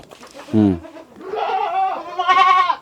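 A young goat bleats several times close by, a short wavering cry followed by longer, higher-pitched bleats.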